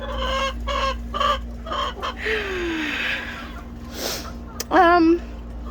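Several chickens cluck and cackle close by in a coop in short repeated bursts, with a soft bawk at the end and a low hum underneath.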